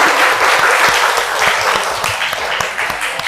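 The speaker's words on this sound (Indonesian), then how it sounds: "Tepuk tangan dong." Dense applause from a seminar audience at an Indonesian education talk, steady and fairly loud throughout with no voices over it.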